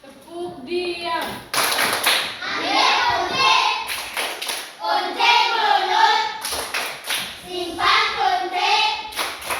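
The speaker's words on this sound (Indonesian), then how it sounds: "Tepuk diam." Schoolchildren in a primary classroom perform the rhythmic 'tepuk diam' clapping chant, sharp hand claps in patterned bursts mixed with their sung and spoken voices, loud and close.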